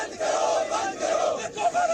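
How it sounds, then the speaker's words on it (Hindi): A street protest crowd chants slogans in unison, a loud sustained roar of many voices rising and falling in rhythmic waves. "ये नारों के साथ लोग सड़कों पर उतरे हैं"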